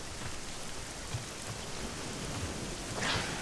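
Rain pours steadily in the dinosaur survival game Orion Prelude, a dense even hiss throughout with faint low rumbles, and no talk over it.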